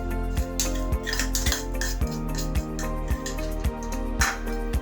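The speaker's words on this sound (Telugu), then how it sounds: "ఇప్పుడు ఈ మిశ్రమాన్ని బాగా కలుపుకోవాలి." A spoon stirs grated jaggery into boiled ragi malt, knocking against the pot in a steady series of ringing metallic clinks, close and clear with no talking.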